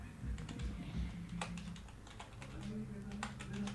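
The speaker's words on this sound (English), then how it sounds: "here let's type" Typing on a computer keyboard during app testing, faint scattered key clicks in small bursts over a low background hum, fairly quiet and close.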